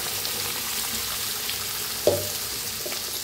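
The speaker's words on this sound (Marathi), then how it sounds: "छान असं भाजून घेऊया मसाल्याला।" Masala with Kolhapuri red chili powder roasting in a pan, a soft steady sizzle with a brief clatter of stirring midway, close and fairly quiet with no talking.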